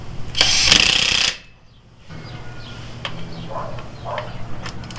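Makita 18V XWT14 cordless impact wrench running on mode 1, one loud, steady rattling hammer burst of about a second while tightening, then stopping into quieter room noise and faint clicks.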